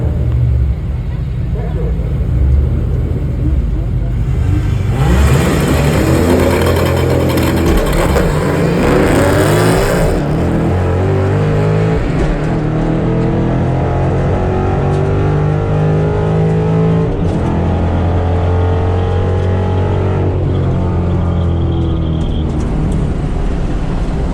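A budget Boss 302 3-valve Mustang accelerating hard on a 125 shot of nitrous, a loud sustained engine roar climbing through rising revs and gear changes, heard from inside the car with some voices over it.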